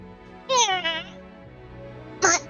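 A kitten meows twice, a longer wavering mew followed by a short second one, close and clear against a quiet indoor background.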